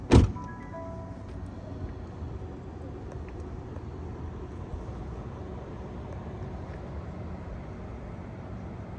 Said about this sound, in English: getting out of the car and watching it drive away.